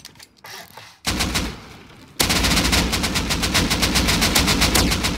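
Automatic gunfire in the survival video game Rust, with a short burst followed by a long, loud sustained stream of rapid shots.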